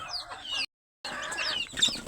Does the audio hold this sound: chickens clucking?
yes